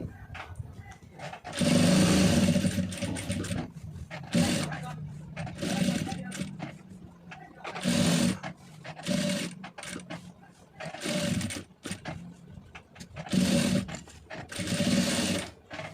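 A sewing machine stitching a piping design, run in short, steady bursts of rapid mechanical whirring separated by pauses, while someone talks between and over the runs.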